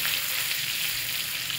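Ginger paste hissing in hot melted ghee in a wok, a steady close bright sizzle with no voices.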